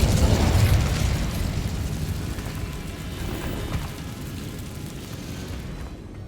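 An Incendio fire spell erupts in Hogwarts Legacy with a loud burst, then a dense roaring, crackling rush of flame that slowly fades over several seconds, heard alone without talking.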